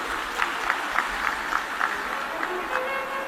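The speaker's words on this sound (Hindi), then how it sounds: "जोरदार ताली बजाएं।" Clapping from a large audience at a live Shiv Mahapuran religious discourse, a steady wash of applause at moderate level with no talk over it.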